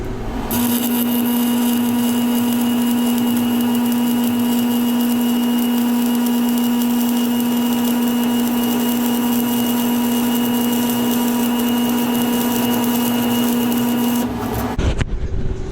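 Arc welding with a Washington Alloy 11018-M military spec stick electrode, a steady loud crackling buzz with a strong constant hum running unbroken for about fourteen seconds before stopping abruptly.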